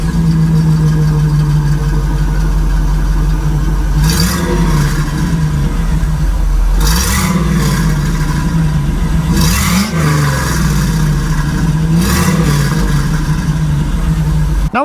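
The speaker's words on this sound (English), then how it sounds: "Now that doesn't exactly sound like a Rover V8 now, does it? Underneath here, we have ourselves a little LS swap." A Land Rover with an LS truck V8 swapped in idles with a deep, loud, steady rumble up close, and is revved four times in sharp rising blips before settling back each time.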